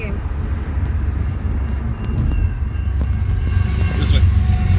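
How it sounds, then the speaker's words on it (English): Union Pacific intermodal freight train rumbling past close by, a loud steady roar of wheels and cars that swells slightly toward the end, with a voice speaking over it. "There's a train came."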